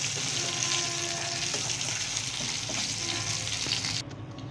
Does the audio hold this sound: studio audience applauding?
no